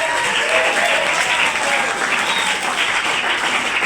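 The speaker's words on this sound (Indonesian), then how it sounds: "Kita beri tepukan untuk bapak-bapak kita yang terhormat." A school hall audience at SMK Al Azhar Baloi applauds honored guests during a civic outreach session, loud continuous clapping from a crowd with faint voices underneath.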